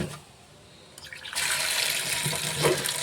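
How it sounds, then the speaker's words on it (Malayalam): Chopped jackfruit washed in water, a steady rush of running or sloshing water that starts after about a second and keeps going loud to the end, with no talk. "അപ്പോൾ നമ്മുടെ ചക്ക അരിഞ്ഞ് വെച്ചിട്ടുണ്ട് ഞാനിനി ഇതിനെ ഒന്ന് കഴുകി"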